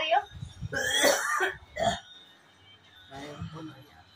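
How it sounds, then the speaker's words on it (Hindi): A few harsh, throaty coughs and throat-clearing sounds close by, with short gaps and quieter rustling between them. "मम्मी खांसती हुई आएंगी।"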